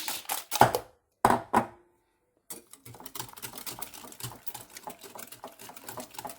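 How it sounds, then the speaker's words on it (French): Homemade flan mixture whisked in a bowl: a few sharp knocks and a pause, then fast, even clicking strokes of the whisk, close and without talk. "Ce qu'on va faire, c'est fouetter notre mélange."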